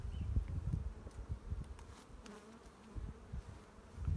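Dense, steady buzzing of many honeybees swarming from an opened, full hive, close and continuous with fluctuating intensity and no speech.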